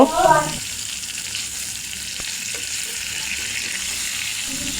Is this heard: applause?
no